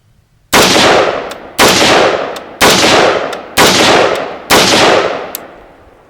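Five loud, sharp rifle shots of PMC X-Tac 5.56 ammunition through an Andro Corp Crane Spec barrel, fired at a steady pace about one second apart, close by, each with a long ringing tail, at an outdoor range.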